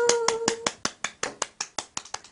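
Hand clapping at a prize-draw broadcast: one person claps about a dozen times in a close, steady rhythm, with a brief tone at the start.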